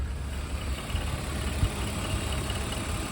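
A BMW 328i, converted into a manual sport touring van, idling steadily: a low, even engine rumble that holds close and constant throughout, with no talking.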